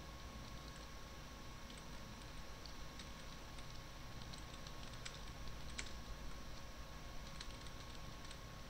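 Java code is typed on a computer keyboard, with faint, quiet clicking keystrokes in a steady irregular patter over a low background hum.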